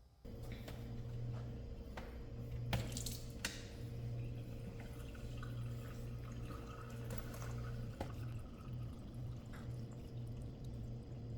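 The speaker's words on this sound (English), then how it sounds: "Emptying the reservoir." Water drains steadily from the reservoir of a countertop ice maker into a sink with its drain plug pulled, a continuous close trickle and splash with faint drips and a low hum underneath.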